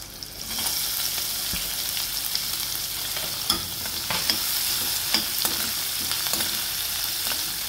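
Chopped onions and green chillies sautéing for a matki (moth bean) curry, a continuous close sizzle broken by regular sharp clicks and scrapes of a spatula stirring against the pan.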